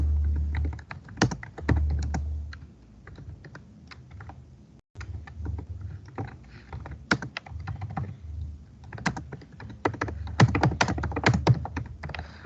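A sentence being typed on a computer keyboard, close and clear, with bursts of rapid key clicks broken by short pauses and a louder flurry near the end.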